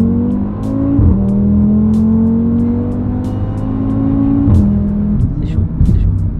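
Audi RS3 engine revving hard under full acceleration, a loud, steady drone rising in pitch through gear changes, with voices talking over it inside the car.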